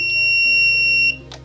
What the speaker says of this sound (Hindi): अ टाइम प्रेस कर देंगे, लॉन्ग बीप देगा और 0 हो जाएगा